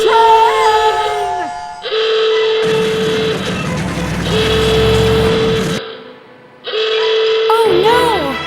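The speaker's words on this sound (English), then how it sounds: "Look out! Runaway milk train!" Runaway milk train in an animated railway cartoon rushing along with engine rumble, a pitched steam-style whistle and sliding tonal effects, loud and close, broken by a brief near-silent gap, with cartoon voices shouting over it.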